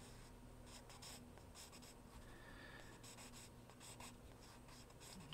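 Pencil scratching across paper while sketching a Dalek, a steady stream of faint, close strokes with short pauses between them, no voice present.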